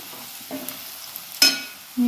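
Pork with a teaspoon of chili powder sizzles in a Kerala-style masala, with a few soft stirring scrapes and a sharper clatter near the end, faint and close with no talk.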